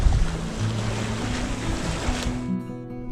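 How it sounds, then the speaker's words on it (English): Jib sail on a sailboat pinching too close to the wind, a loud rough flutter and rush of wind and water that drops away near the end, close and with no speech. "We're pinching a little too hard for the jib to really like it,"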